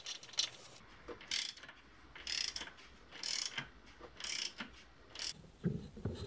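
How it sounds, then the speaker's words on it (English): Mechanical work on a BMW air conditioning belt as a new tensioner pulley goes in: repeated bursts of ratcheting, whirring metal clicks come in a steady rhythm about once a second, close up and with no talking. "Installing a new tensioner pulley for the air conditioning belt."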